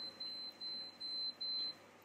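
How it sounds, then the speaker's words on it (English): A kitchen timer being set while pasta cooks, sounding four evenly spaced steady beeps, faint and alone without talk. "We want to make sure we add 10 minutes to our timer."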